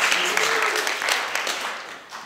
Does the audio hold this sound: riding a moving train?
no